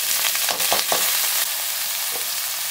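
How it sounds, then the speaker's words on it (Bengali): Pointed gourd frying in a little oil in a hot wok, a steady close hiss with a few brief crackling bursts near the start, no voices. "কড়াইটা গরম হয়ে এসছে, এরপরে কাঁকরোলগুলো দিয়ে দেবো।"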